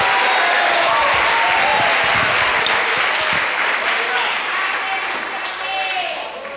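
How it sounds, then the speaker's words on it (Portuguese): A church congregation applauding during an evening service, loud, dense clapping that swells and holds steadily, with voices mixed faintly underneath before easing slightly near the end. "Aplauda o Senhor esta noite."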